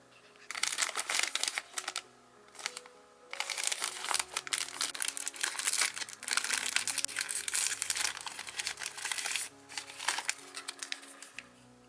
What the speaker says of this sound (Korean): 개별 포장된 3개의 비닐이 들어있습니다.